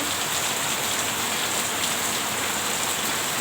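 Heavy unseasonal rain pours down, a dense, loud, unbroken hiss of drops striking the ground that holds steady throughout with no voices.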